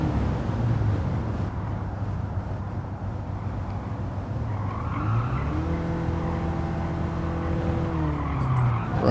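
A race car in Gran Turismo 7 career mode roars through a corner with a continuous engine drone and screeching tire skid, the engine pitch rising and shifting near the end, loud and close with no talk.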